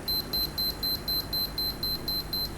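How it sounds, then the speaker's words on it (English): A camera's focus warning beeper sounds a rapid, steady series of short high-pitched electronic beeps, about four per second, repeating evenly over a faint background hiss when focus fails. "That's the beeping you get if you can't get a focus"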